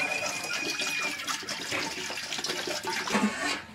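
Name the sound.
water poured into a pot on the stove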